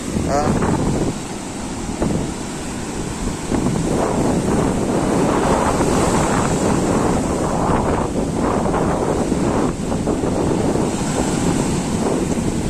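Sea waves breaking on Shankarpur beach, a steady loud roar of surf mixed with heavy wind buffeting the microphone throughout, with a voice speaking now and then over it.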